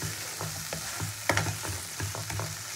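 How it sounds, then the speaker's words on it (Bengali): Spice paste and fried potatoes being sautéed in a pan for a tangra fish curry, with a steady frying hiss under repeated scraping stirs from a spatula, close and moderately loud. "আলু দিয়ে মশলা দিয়েও ভালো করে কষিয়ে নেব"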